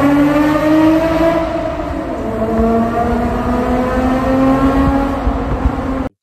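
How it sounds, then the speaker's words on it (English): A Toyota MR2 SW20 with a 2GR engine swap revs through its exhaust, holding a loud, steady harmonic drone that rises and falls slightly across the whole stretch before cutting off abruptly. "it's kind of worth it to me to have that exhaust note that I was looking for and not have that buzz on deceleration"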